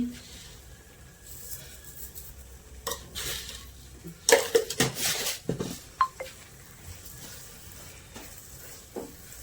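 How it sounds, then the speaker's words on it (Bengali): Chicken korma masala being stirred and fried in a pan, with soft scraping and clinks of a spoon against the pan over a low sizzle, plus a busy burst of stirring midway. "এই মশলাটা খুব ভালো করে কষতে হবে।"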